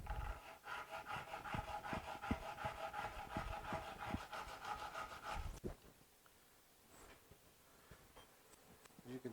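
A knife blade is drawn across diamond sharpening stones in quick, regular rasping strokes for about five seconds, then the room goes nearly quiet apart from a few faint scrapes.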